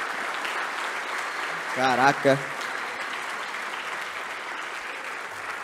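A conference audience applauds a speaker after her talk on finite state machines: a steady, dense wash of clapping that fills the whole moment, with a brief excited exclamation from a voice partway through.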